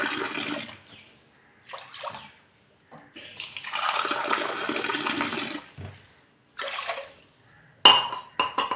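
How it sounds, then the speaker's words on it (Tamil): Water is poured in several separate splashing streams into a clay cooking pot for biryani, with pauses between pours and a light metallic clink near the end. "3 அழகு தண்ணி ஊற்றிருக்கேன்"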